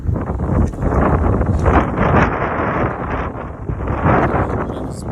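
Strong wind buffets the microphone with a loud, continuous rumbling roar, rising and falling in gusts, while cycling outdoors on a fixed-gear bike.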